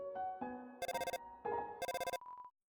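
Phone ringing in the video game Undertale, a chiptune ringtone of bright beeping tones repeated in two bursts with rapid pulsing notes, ending on a fading single tone, clear and alone.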